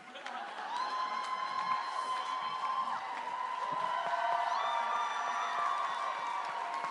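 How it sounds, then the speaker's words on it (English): A Supernatural fan convention audience at a panel applauds and cheers, with sustained clapping, shrill whoops and raised voices filling a large hall continuously. "I thought they were applauding."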